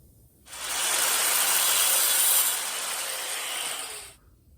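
A plastic clutch-pedal bushing from a 1969 Firebird four-speed conversion is trimmed with a power tool, giving a steady, loud grinding-buzz that runs alone for about three and a half seconds before cutting off.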